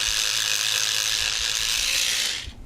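An electric toothbrush scrubbing grain texture into a plastic scale model, giving a dense, steady buzzing hum close up that runs continuously and then cuts off near the end. No one speaks.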